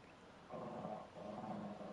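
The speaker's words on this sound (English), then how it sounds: "She's up at the window growling again." A dog growling at a window indoors, a low rumbling growl in two drawn-out bursts, faint and somewhat distant, with no talk over it.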